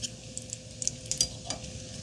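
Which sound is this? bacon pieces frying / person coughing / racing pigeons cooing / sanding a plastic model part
bacon pieces frying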